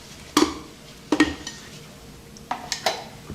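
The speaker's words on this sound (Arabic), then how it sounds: "بحطهم بهي العلبه اللي بدي احطها بالبراد" A spoon clinks and scrapes against a plastic container several times in irregular bursts, with soft scooping sounds between, as fresh garlic cream is spooned in.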